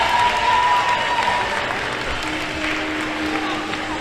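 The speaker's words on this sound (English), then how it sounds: "Give him a clap." An audience at an Easter bonnet competition in a shopping mall claps in a continuous, fairly loud wash, steady throughout with some crowd noise and faint voices underneath.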